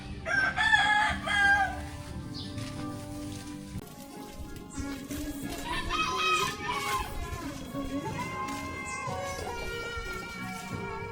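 A rooster crows loudly and close by in rural Philippines between Pangasinan and Nueva Ecija. Its drawn-out, harmonic call comes first, followed by steady patter and outdoor noise.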